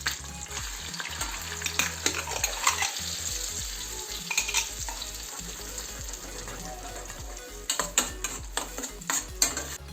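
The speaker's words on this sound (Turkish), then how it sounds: "Evet sosumuz kaynıyor." A pan of grated tomato sauce sizzles and bubbles steadily while a utensil stirs and scrapes, with clinks growing sharper and more frequent toward the end.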